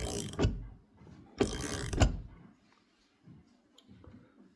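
Bearing press tool squeezing a bearing between two plates, giving a few short metallic creaks and clicks with ratcheting bursts, close and fairly quiet.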